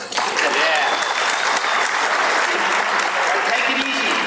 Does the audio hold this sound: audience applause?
yes